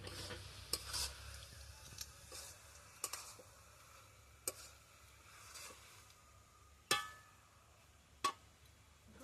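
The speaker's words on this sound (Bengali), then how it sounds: "সবকিছু দিয়ে ভালোভাবে মিশিয়ে নিচ্ছি" Cashews, raisins, almonds and pistachios are stirred into Bengali-style carrot halwa in a pan, with soft scraping and a low sizzle broken by a few sharp clicks of the spoon against the metal.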